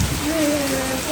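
Heavy night rain during hot weather pours steadily as a dense, even hiss close by, with a faint tonal hum running beneath it.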